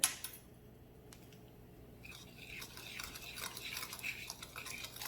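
A spoon stirs powdered sugar and cinnamon into a glaze in a bowl, giving soft, continuous scraping and swishing close by at low volume, building slightly toward the end.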